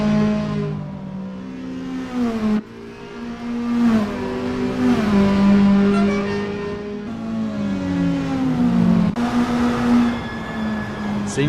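Toyota S-FR race cars launching from the grid at Lime Rock in the racing game Assetto Corsa, several engines revving and climbing through gears together, loud and steady with overlapping tones that rise, drop on shifts and rise again.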